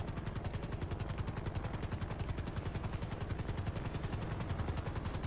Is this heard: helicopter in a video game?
yes